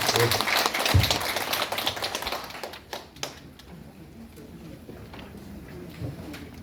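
An audience of elderly people applauding indoors at a lecture, dense clapping that gradually thins out and fades, with a voice speaking near the start.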